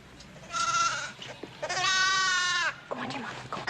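A lamb bleats loudly in two long, wavering cries at close range. Someone speaks around the cries.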